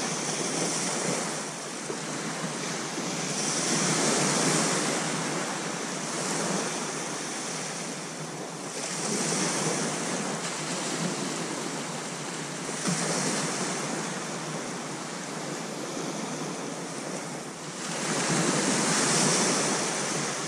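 Sea waves roll onto the beach at Sea Palling, Norfolk, as a continuous broad roar that swells and recedes in slow surges every few seconds, with wind buffeting the microphone and no voices.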